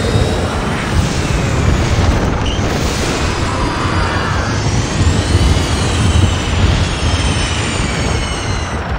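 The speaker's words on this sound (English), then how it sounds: "Get out of there before the VTOLs arrive." A VTOL aircraft approaches in the Mirror's Edge Catalyst video game, a loud continuous engine roar and rumble that holds steady throughout.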